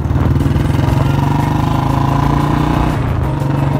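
A Bullet 350 motorcycle fitted with a standard C band exhaust pipe idles loud and close, its deep, even thumping pulse steady throughout with no voices.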